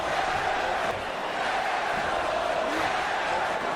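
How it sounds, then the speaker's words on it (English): Arena crowd chanting in the WWE 2K25 wrestling video game, a continuous roaring drone of massed voices with rhythmic swells, heard behind a commentator talking. "Crowd, of course, rightfully so, calling the society assholes"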